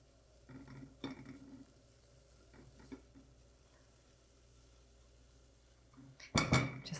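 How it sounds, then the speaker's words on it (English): Grated zucchini cooks in a pan with a faint, steady sizzle and soft stirring scrapes, ending in a loud, close clatter of utensil against pan. "we're going to add our grated zucchini. We're gonna cook that just long enough to get a tiny bit more moisture out of it"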